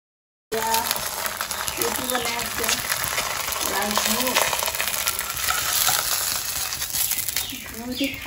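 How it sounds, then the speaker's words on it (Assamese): Chicken frying in hot oil, a steady crackling sizzle with occasional stirring clatter, close and loud throughout after a brief silent start. "চিকেন ফ্ৰাই বনাইছে পুৰা।"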